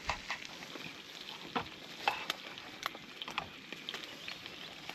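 Cheese-topped scrambled omelette frying by a campfire on a remote riverbank, a steady close sizzle broken by scattered crackles and sharp pops, with no voices.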